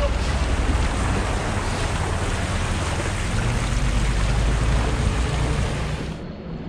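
A small outboard motor runs steadily on a lake, a constant low drone mixed with wind buffeting and water wash, fairly loud and close, fading slightly at the end.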